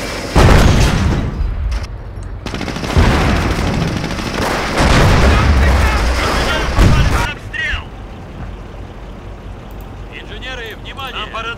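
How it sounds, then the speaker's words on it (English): An anti-tank gun firing in the Company of Heroes video game, with loud deep booms and heavy blasts that rumble on for several seconds, then fade into a quieter battle backdrop, with talk over it. "Oh yeah, an AT gun."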